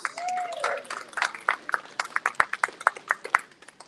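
Audience applause at an evening event in Houston: a sparse run of distinct claps that settles into a steady rhythm, fairly faint, with a brief tonal sweep at the very start.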